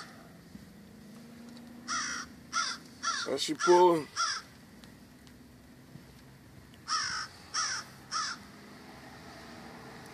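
Several loud crow caws come in two bursts, close and repeated, while someone talks over them outdoors during a foam tire cleaner test on a dirty tire.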